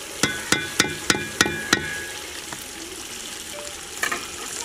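Fish goes into sautéed masala in a pan, announced by a quick run of six sharp, evenly spaced knocks against the pan, then a quiet, continuous sizzle with a couple of softer taps.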